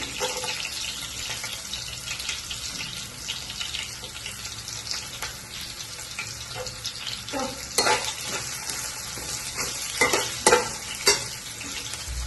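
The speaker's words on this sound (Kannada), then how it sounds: "ಹಸಿಮೆಣಸಿನಕಾಯಿ, ಮೆಣಸಿನ್ಕಾಯಿ ಇದೆಲ್ಲ ಸ್ವಲ್ಪ ಚೆನ್ನಾಗಿ ಫ್ರೈ ಮಾಡಿ" Garlic and green chillies fry in a pan with a continuous close sizzle, broken by several sharper scraping stirs and clatters near the end.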